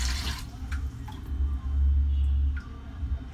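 Water runs from a tap over a leaf being washed, a soft splashing with light drips and a few faint clicks, quiet and close, no voices.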